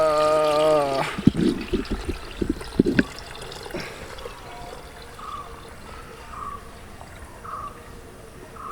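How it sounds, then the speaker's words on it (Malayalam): Watermelon juice is poured in a short, splashy burst of liquid after a brief voice, then settles into a quiet trickle with faint, evenly spaced tones in the background. "ഇത് നമ്മൾ ജ്യൂസ് ഇതിൽ ഒഴിക്കാം കേട്ടോ"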